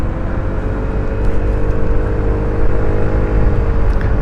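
An Easy Ride 150P motorcycle engine works steadily up a mountain road, a loud, constant low drone that swells slightly midway.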